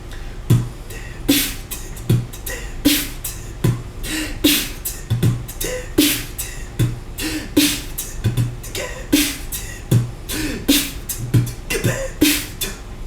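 Breathy beatbox drum imitation, a voice mimicking a kit with airy hiss snares and thumping low kicks in a steady, driving rhythm, close and alone.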